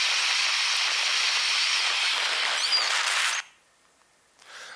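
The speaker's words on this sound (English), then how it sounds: "this is a little geothermal vent near Krafla volcano, and you get a sense it's steaming away permanently" Steam from a geothermal vent near Krafla volcano in Iceland gives a broad, steady hiss for about three seconds, then cuts off abruptly to near silence before a faint hiss returns.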